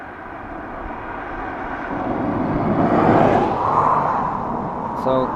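An Iberia airliner taxis at Dublin Airport, its distant jet engine hum swelling gradually and then easing off, steady and moderately loud, with a brief beep near the end.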